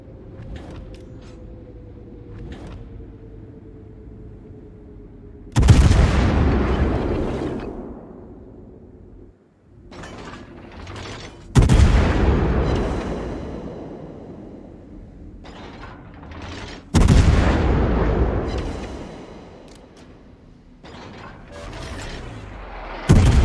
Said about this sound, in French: Concentrez le tir sur la cible désignée.